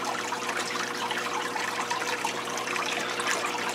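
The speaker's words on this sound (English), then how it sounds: "I'm just going to let a couple more moments of water drain here" Aquarium water from a brackish tank drains through a siphon into a bucket, a steady close trickling and splashing hiss that runs evenly throughout with no talk.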